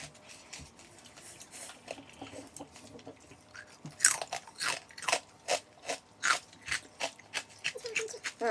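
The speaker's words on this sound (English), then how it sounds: "Oh, it was so crunchy." Loud, crisp crunching from chewing chicharon, a rapid run of sharp bites in a steady rhythm after quieter mouth sounds at the start.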